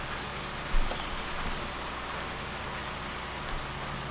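Rain falls in a steady, dense hiss, close and moderately loud, with a couple of faint thumps and no voices.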